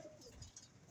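Pigeon cooing at a loft, a single soft, low, muffled coo rising briefly, faint and close, with no one talking over it.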